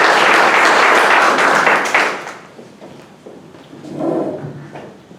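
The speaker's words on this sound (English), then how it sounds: "Please give us a good round of applause for Mr. Rex White." A burst of applause from the audience at a Rotary Club meeting, loud and dense for about two seconds, then dying away into scattered noise and shuffling.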